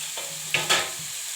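Chopped tomatoes fry in ghee for a Karnataka-style chicken gravy, a soft sizzle punctuated by two loud scraping stirs of a spoon in the pan midway, then settling back to a quieter crackle.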